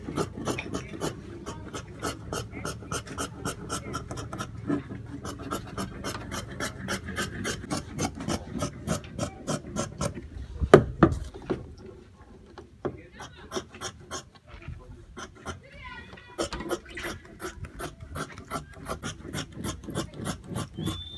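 Scissors cutting through trouser fabric along a drafted pattern, a steady run of close, crisp rhythmic snips with a short pause midway before the cutting resumes.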